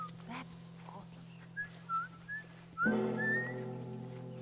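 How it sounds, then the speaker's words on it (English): A game character whistles a short tune in The Last of Us, several brief rising and falling notes, close and clear, over a steady low ambient hum, the last phrase louder against a denser background. "I'm whistling. I thought someone else was."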